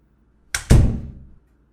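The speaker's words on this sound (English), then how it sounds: "The door shut." A door shuts in a dramatized audiobook, a sharp click followed at once by a heavy, booming thud that rings out and fades over about half a second against silence.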